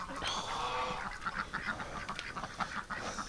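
Ducks quacking and honking in winter snow, a busy cluster of repeated nasal calls, fairly close and continuous over a soft outdoor background.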